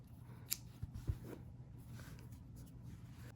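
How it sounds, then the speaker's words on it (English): Scissors snip through crochet yarn in a few quick, crisp cuts near the start, close and fairly faint over quiet room tone. "then you'll cut off your yarn"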